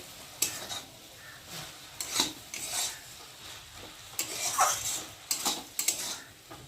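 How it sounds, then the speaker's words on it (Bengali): Leafy greens frying in a pan are stirred with a utensil, producing soft scraping strokes in irregular bursts over a quiet background sizzle, close and fairly faint. "একটু ভালো করে নেড়ে দিলাম যাতে তলায় না লেগে যায়"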